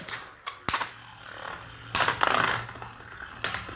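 HMS Beyblades, Draciel MS and Strata Dragoon MS, collide in a stadium with a few loud, sharp plastic-and-metal clacks separated by short whirring, scraping stretches of spinning.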